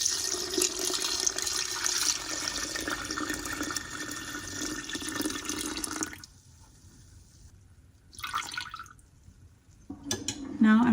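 Warm water poured steadily into a mixing bowl for a batch of soft sourdough, a continuous splashing pour for about six seconds, then a brief quieter trickle and a final short splash near the end.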